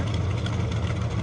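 Supercharged dragster engine idling in the staging lane at a drag race, giving a brief, steady, rumbling low drone heard from a moderate distance.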